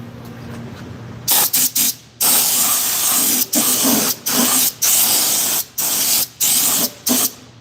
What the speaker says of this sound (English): It's heavy to the point where it'll mist around you